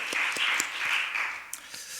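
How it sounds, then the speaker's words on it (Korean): A church congregation claps together during a Sunday worship service, a dense, moderately loud wash of applause that continues steadily for a couple of seconds, with a faint voice mixed in. "박수 올려드리겠습니다."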